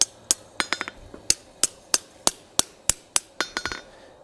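Hammer blows ring against a skillet handle set on an anvil corner during forging, a dozen or so sharp metallic strikes in an uneven rhythm, close and loud with quick decays, the last few coming in faster clusters.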